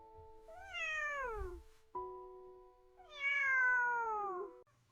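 A kitten lets out two drawn-out, rising-and-falling meows, clear and close, separated by a short pause with a brief tonal sound between them.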